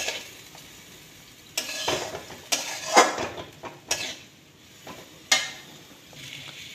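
Gourd peel stir-fry is stirred in a wok, giving intermittent metallic scrapes and clanks of a utensil against the pan over a faint low sizzle, close and without voices.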